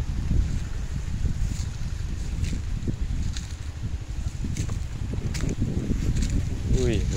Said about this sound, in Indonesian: Wah, angin badai sangat dahsyat ini, mengerikan dia.